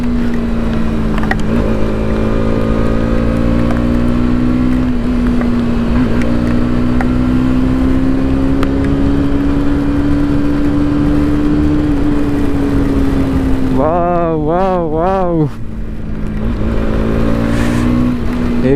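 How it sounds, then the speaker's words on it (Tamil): A Bajaj Pulsar NS200 motorcycle holds third gear on a monsoon hill road, its exhaust droning loud and steady with a rising pitch, then a brief revving surge near the end. "எக்ஸாஸ்ட் நோட் கேளுங்க"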